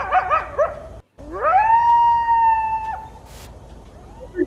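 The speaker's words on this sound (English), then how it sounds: "there was a pack of coyotes near us" A pack of coyotes at night: a few short yipping calls, a brief gap, then one long rising howl that holds steady before breaking off, fairly loud and close, with a faint call at the end.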